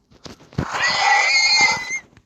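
A Minecraft donkey bray rings out for about a second and a half, loud and tonal, with a few soft clicks before it.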